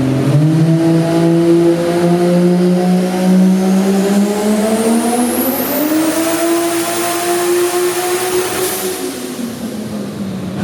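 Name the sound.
modified Ford FG Falcon engine revving on dyno pull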